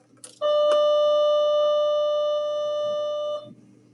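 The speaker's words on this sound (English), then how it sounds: "There's the bell, sorry." An electronic bell rings in a classroom, one steady sustained tone holding for about three seconds before it cuts off, loud and alone.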